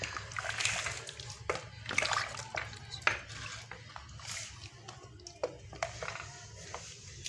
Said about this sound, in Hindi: इसमें अब हम वाटर शामिल कर लिए हैं जो कि है 1 लीटर। ऐसा इतना हम शामिल कर लेंगे। ये शामिल करके हम इसको मिक्स कर लेते हैं।